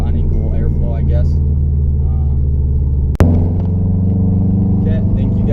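A Subaru flat-four fitted with unequal length headers gives a steady, deep, loud rumble at idle, with one sharp click partway through.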